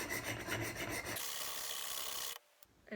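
Oboe reed knife being sharpened on a Wicked Edge sharpener, with a steady rasping scrub of the stone moving up and down along the blade for a couple of seconds, close and clear, then stopping.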